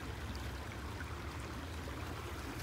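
A forest stream flows over rocks in large woods, a steady broadband wash of running water that holds at an even, moderate level throughout, with no voices.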